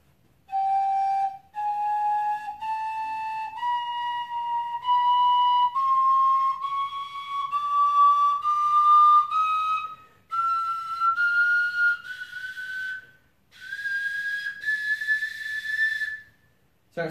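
An Armenian shvi, a small wooden fipple flute, climbs a chromatic scale in separate, clearly stepped notes, each pure and whistle-like with faint overtones, played solo and close up, turning thinner and airier toward the top of the range.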